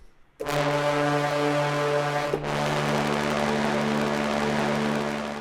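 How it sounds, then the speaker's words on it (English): Overblown low brass ensemble from the EastWest Hollywood Fantasy Orchestra sample library blasts a loud, buzzy, blaring chord, held steadily, briefly breaking and then returning with the same harsh, brassy edge. "Let's do the low brass overblown."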